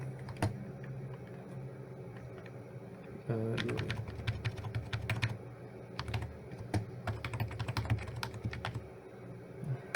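Fingers tap quickly on a computer keyboard while static routes are set up, with clustered clicks that grow busier partway through. Someone speaks quietly in the background.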